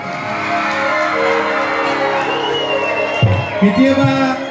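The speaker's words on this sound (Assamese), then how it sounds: "তাৰ কাৰণে এটা হাত চাপৰি দিয়ক আপোনালোকলৈ" An audience at the AJMS 'Jonotar Silpi' award event for Mahendra Hazarika breaks into applause and cheering, a dense, steady wash of clapping with a few whoops and some tonal music underneath.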